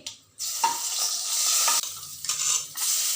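Chopped onions, turmeric and chilli frying in a pan for chana masala, a sudden loud sizzle that bursts in after a quiet start and continues with a few clinks and stirring scrapes, up close.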